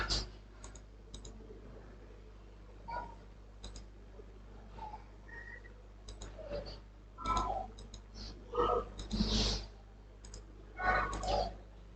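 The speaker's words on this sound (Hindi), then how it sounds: "तो हम इसको डबल क्लिक करेंगे" A computer mouse clicks in a quiet room, with sharp, sparse clicks and a few quick double-clicks spaced irregularly over low background hum. Soft, faint sounds of movement occur between the clicks.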